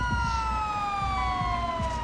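An ambulance siren in the LSPDFR police video game wails steadily and loudly, its tone sliding slowly downward, with no one speaking.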